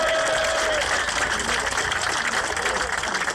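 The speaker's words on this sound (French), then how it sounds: "je pense qu'on peut s'applaudir" Crowd applauding at an outdoor rally against the labor law in France; sustained clapping and crowd noise, fairly loud and continuous, with a brief whistle-like tone at the start.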